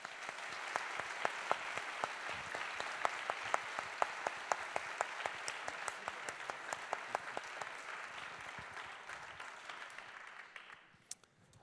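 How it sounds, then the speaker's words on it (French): An audience at a French book event applauds as an author arrives, with dense sustained clapping and scattered sharper claps for about ten seconds before it quickly fades away. "Je vous demande d'applaudir et d'accueillir David Fuenquinos."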